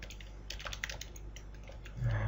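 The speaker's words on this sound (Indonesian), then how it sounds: "kita ketikkan dulu struktur HTML dasarnya" Fingers type HTML code on a computer keyboard, a quick, uneven patter of light key clicks close to the microphone, with a low hum underneath and a brief thump near the end.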